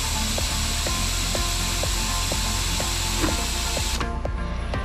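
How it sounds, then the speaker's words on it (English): An Epson C12 six-axis industrial robot moves with a repeated mechanical clicking at a regular rhythm over a steady background whir, ending in a sharp drop in noise near the end. "take a sneak peek at the latest and powerful C12 six-axis robot"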